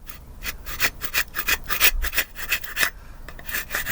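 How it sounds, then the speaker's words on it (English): Wood of a beehive super frame being scraped and cleaned where the wedge fits, heard as steady rhythmic rasping strokes, close and fairly loud, repeating roughly every half second with no talk. "Scrape out and clean where the wedge is attacked."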